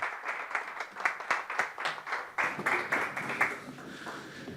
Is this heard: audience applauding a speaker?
yes